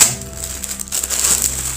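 Adhesive tape is pulled and pressed around a plastic mailing bag while packing an order of bags for shipping, giving crackling, crinkling rips and rustles up close, with no talking.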